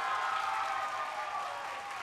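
An audience at a talent show semi-final applauds in a dense, steady wash of clapping that fills the short moment and then fades slightly toward the end.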